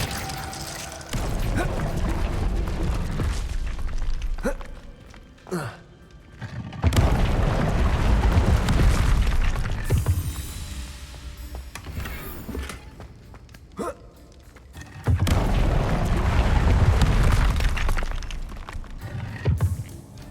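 Spell blasts in Hogwarts Legacy combat: repeated loud bursts and booming impacts in clusters, separated by brief quieter gaps, with casting voices mixed in.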